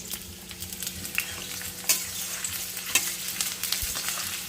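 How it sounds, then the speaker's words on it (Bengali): Onions fry in a pan while being stirred, a steady close sizzle broken by sharp clinks and scrapes of a utensil against the pan. "পেঁয়াজটা এবার দেখো আমি কিন্তু এটা একটু লাইট ব্রাউন করে নেব"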